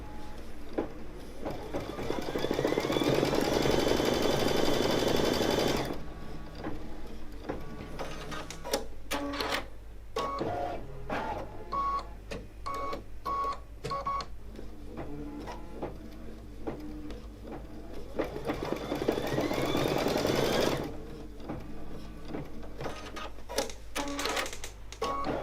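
Brother Luminaire Innovis XP1 embroidery machine stitching: a steady, fast mechanical chatter of needle strokes running throughout, with a louder dense whirring stretch at the start and another near the end, plus clicks and shifts of pace between.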